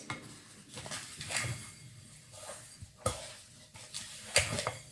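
A spoon works butter into cookie dough in a bowl, making soft, irregular scrapes and occasional sharper knocks against the bowl, close and quiet, with no talking.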